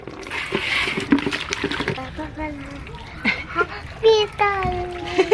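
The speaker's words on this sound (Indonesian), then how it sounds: "Coba kita cuci embernya dulu." A bucket being washed in cold water, with splashing and sloshing, while a child and an adult talk over it in Indonesian.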